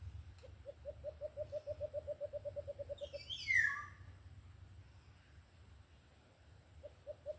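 A bird calls in a fast series of repeated hoots that rise and speed up, followed by a short swooping note, faint over a steady background hum.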